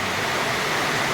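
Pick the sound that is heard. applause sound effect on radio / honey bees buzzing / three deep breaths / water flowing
water flowing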